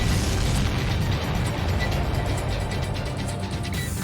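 Missiles being destroyed in the combat flight game Ace Combat 7, a continuous loud rumbling roar of explosions and jet noise with a dense crackle of bursts layered over it throughout.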